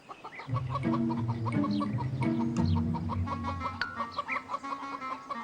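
Several hens cluck and murmur close by, with repeated throaty calls rising and falling and a few sharper clucks toward the end.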